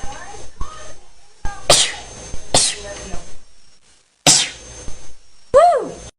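Girls sneeze several times in sharp, close bursts separated by short pauses, with brief voices and breathy sounds between them.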